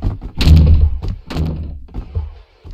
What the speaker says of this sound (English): Why did you get so angry and close the door?